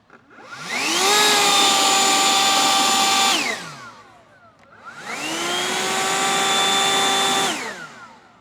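A Toro 60V battery leaf blower at full throttle roars in two long, steady bursts, each rising with a whine and winding down, loud and close with no voices.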